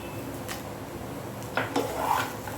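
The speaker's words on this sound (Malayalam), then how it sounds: "തൊലിയോടെ തന്നെ ഇട്ട് കൊടുക്കുകയാണ്." Roasted peanuts with their skins dropped into a pan of poha, a few light clinks and rattles of utensil against the pan, close and fairly quiet.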